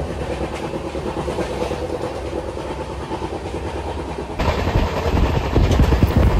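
The 12337 Shantiniketan Express runs fast along the rails near Dankuni Junction, a steady loud rumble with faint clickety-clack that grows harsher and louder in the last couple of seconds as the car noise opens up.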